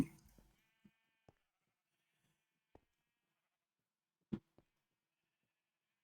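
A video game sheep bleats in short, separate calls, several brief bleats spaced out across a quiet background, faint overall.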